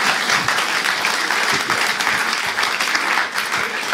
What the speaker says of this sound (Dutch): Geeft u onze eregast van vanavond een warm applaus.